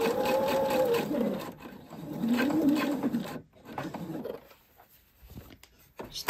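A sewing machine stitches a seam along a shoulder and around a neckline a few millimetres from the raw edge, giving a steady motor whir for about three seconds before stopping, with quieter handling noises afterward.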